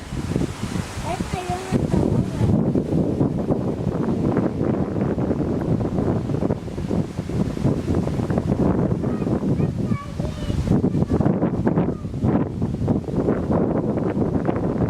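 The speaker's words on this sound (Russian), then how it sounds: "Такой ветер, что можно улететь, как Мэри Поппинс на зонте." Strong wind at a tent camp on the Vileyka Reservoir roars and buffets the microphone steadily throughout, with voices talking underneath.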